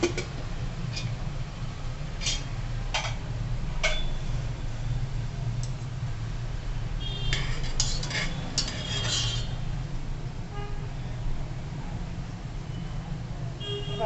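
Jackfruit seed vegetable being stirred and sautéed in a pan in oil, Konkan style, with a steady low sizzle and intermittent scraping, clinking utensil strokes against the pan throughout.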